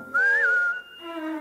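A person whistles in a radio play adaptation of Pinocchio, a clear, close melody that rises, wavers and falls before settling into a steady held tone, with no talking.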